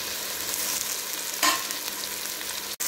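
Boiled chickpeas frying with softened tomatoes in a pan for Balochi chana pulao, giving a steady close sizzle with a brief louder stir in the middle and no voices.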